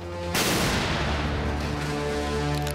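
A T-14 Armata tank gun fires a single heavy, sharp blast that rolls off into a long booming decay over a steady low engine rumble.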